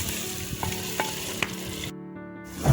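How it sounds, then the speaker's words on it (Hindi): Meat for village-style aloo gosht fries in a pot, a close, steady sizzle with stirring scrapes, briefly dropping out before a louder stir at the end. "अब इसको अच्छे से भून के, मुकम्मल भून के और आलू ऐड करते हैं"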